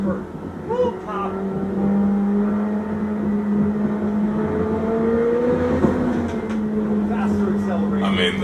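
A McLaren 765 engine drones and climbs in pitch while driving a canyon road, a steady rising tone with shifts in revs, heard from inside the car under a continuous hum of road noise.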